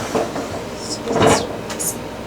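A door aboard a liveaboard trawler boat swings open or shut with a few light knocks and clatters, heard at close range amid cabin ambience, with people talking around it.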